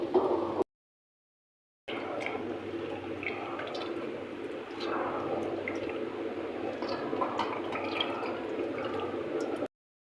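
Water runs and splashes steadily as sliced bitter gourd is squeezed and rinsed in a kitchen, a continuous close wash of trickling and dripping after a brief silent break.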